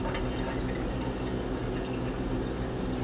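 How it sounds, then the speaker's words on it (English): Tap water runs steadily over raw baby back ribs being rinsed before going into an Instant Pot, a constant close splashing hiss with no pauses. "So just a little rinse."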